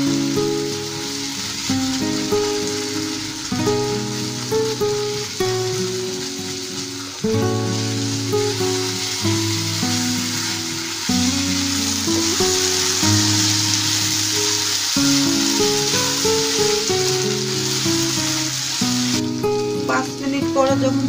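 Elephant apple pickle cooking in a pan, stirred continuously so it does not stick: a steady sizzling hiss with a soft rhythmic scrape of the spoon, loud and close, with background music beneath.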